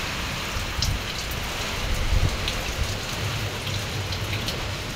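Steady heavy downpour from a typhoon drums on surfaces in a dense, even hiss with scattered louder drops, no voices present.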